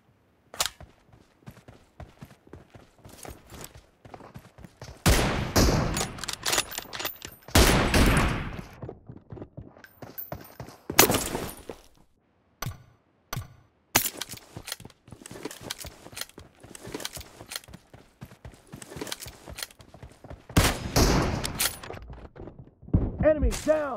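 Weapon fire in a PUBG Mobile 1v1 team deathmatch, bursts of rapid gunshots and single loud shots in irregular clusters separated by quieter gaps, with some game sounds in between.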